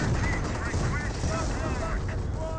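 Gunfire directed at a Pak 38 anti-tank gun in Company of Heroes, a dense rattle of distant shots blended into constant battle noise with whistling, sweeping tones overhead.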